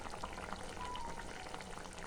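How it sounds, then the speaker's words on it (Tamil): Mushroom kurma curry simmers in a pan over medium heat, with soft, continuous bubbling and popping at a low, even level. "பாருங்கள், இது கொதிச்சிட்ருக்கு. இது கொஞ்சம் நேரம் வேகணும்."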